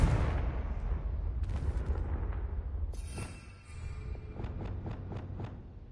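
A Confringo blasting spell in Hogwarts Legacy goes off in a heavy booming burst with rumbling debris, followed by a lighter magical shimmer and a run of quick crackling pops.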